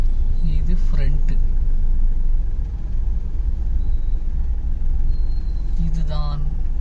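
Heavy, steady engine rumble from idling vehicles in bumper-to-bumper Bengaluru traffic near the Sampige Theatre junction, with a couple of short horn honks and a person talking over it.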